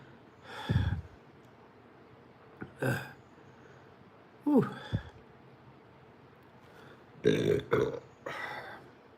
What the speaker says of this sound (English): Got a nice little pepper burp going on.